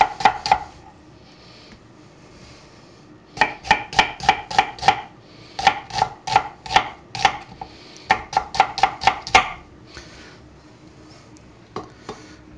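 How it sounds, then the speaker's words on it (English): Onions are finely sliced with a knife for beef stroganoff: close, crisp knife strokes land in quick rhythmic runs on a cutting board, with short pauses between bursts and no talking. "heads and roots off and then just finely slice the onions."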